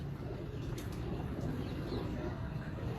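Pigeons coo softly in low, rounded murmurs against a steady background rumble, with a few faint higher chirps from other birds.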